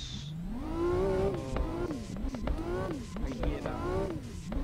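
A car engine in Assetto Corsa revs again and again in neutral while drifting, its whining pitch climbing and dropping in quick waves, loud and close.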